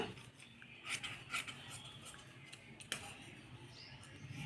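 Scissors cutting blouse lining fabric by hand in a straight line, with soft rasping snips and rubbing strokes, a few sharper clicks, faint and close in a quiet room.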